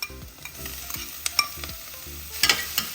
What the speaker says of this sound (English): And so I'll go ahead and add the sausages